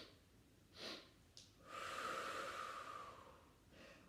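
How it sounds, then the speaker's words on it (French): A deep, steady inhalation through the nose during a Pilates exercise, a long soft airy breath swelling for about two seconds after a couple of brief sniffs, close and quiet with no talk. "Encore une fois, on inspire."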